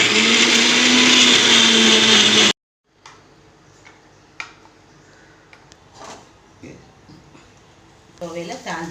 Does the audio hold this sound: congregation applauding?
no